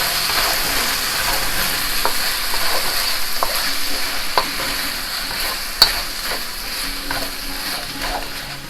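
Strips of skirt steak fry in a pan and are stirred, giving a steady sizzle with repeated scraping clicks from the utensil. The sound is close and has no talk over it.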